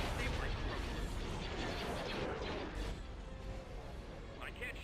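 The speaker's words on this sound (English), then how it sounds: "Here comes the bombs." Bombs exploding in the Star Wars space-battle game Thrawn's Revenge, heard as a continuous low rumble of blasts and gunfire under a voice, fairly faint and steady without sharply separated impacts.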